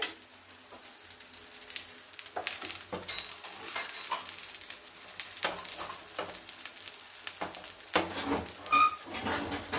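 Masala kandi dosa batter fries on a hot pan, with a soft, uneven sizzle and occasional scrapes and stirring clatter close by, no one talking.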